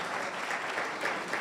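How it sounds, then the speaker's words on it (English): Audience applause for departing candidates at a board of directors election forum, a steady, soft wash of clapping from a crowd with no talk over it. "please give them a round of applause so we know how much we appreciate them"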